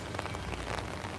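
Steady rain falls and patters on a surface outdoors at a railroad museum, a dense, continuous hiss with no voices.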